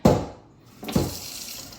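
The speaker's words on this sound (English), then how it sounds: "I refresh my water, and then I just add a sprinkle of sugar" Tap water runs briefly to refresh the water in a flower vase, a short splashing burst followed by a second softer gush, close and alone.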